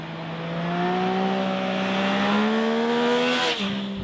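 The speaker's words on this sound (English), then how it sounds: "the engine sounds just like before, even it's in Euro 5" A 2021 Yamaha Tracer 9 GT motorcycle engine revs steadily and close by, its tone climbing gradually and holding loud before dropping briefly near the end.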